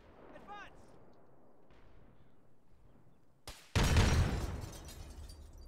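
Artillery shells pound a fortified position in a military video game: after a few seconds of low rumbling and faint distant pops, a single loud, close blast erupts and rolls into a fading roar.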